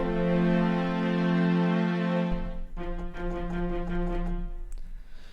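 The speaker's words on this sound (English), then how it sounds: "you can hear that attack of the bow" Sampled bowed string ensemble plays a held chord, then shifts to a lower note with grainy, rhythmic bow strokes, ending on a brief accent.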